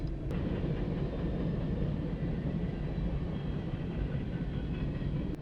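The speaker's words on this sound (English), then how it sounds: "Now why is the train so long, full of these useless pieces?" A steady rumbling roar of a long train rolling past a railroad crossing, with faint rhythmic clacking continuing unbroken throughout.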